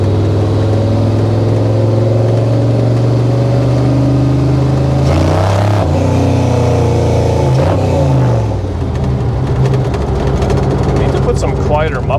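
A 1955 Chevy Nomad gasser with a stick shift rumbles steadily along rough roads, its engine drone loud and constant from inside the car, with people talking over it.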